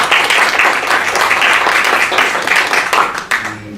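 An audience at an academic lecture on constitutional interpretation of human rights applauds, giving a dense, continuous burst of many hands clapping close and loud for a few seconds.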